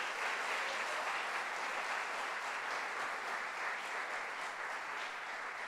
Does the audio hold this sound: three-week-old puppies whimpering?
no